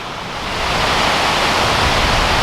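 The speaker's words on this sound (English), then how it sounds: "So that's the waterfall," Loud, steady roar of a waterfall in the Kodaikanal hills, a dense broadband rush of falling water that swells slightly in the first half second and then holds constant, with no voices over it.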